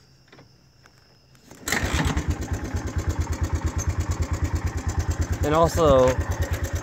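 A motorcycle engine starts after a short quiet lead-in and settles into a loud, even idle with a rapid rhythmic tapping from the valves of an engine long overdue for an oil change, while someone speaks briefly over it.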